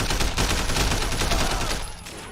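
Rapid gunfire from the video game Sleeping Dogs, a dense burst of close, loud shots in quick succession that trails off at the end.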